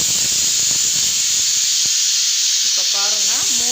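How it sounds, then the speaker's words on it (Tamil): Pressure cooker whistle releasing steam while cooking rice and lentils, a loud, continuous close hiss with a rising, wavering squeal near the end. "இப்போ பாருங்கள் 3 விசில் வந்துடுச்சு."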